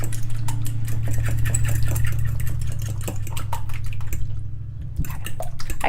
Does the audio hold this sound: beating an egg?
yes